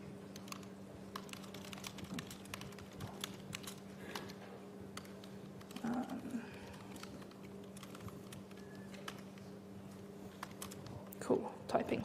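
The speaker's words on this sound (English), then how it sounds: "cool, typing, it's a thing that I can do" Steady keyboard typing, a run of soft clicks over a low constant hum, with a brief burst of louder keystrokes near the end.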